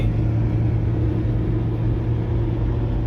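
Hyundai Trajet automatic car engine climbing a long uphill lane at around 3000 RPM, a constant loud low drone with road rumble and no talk.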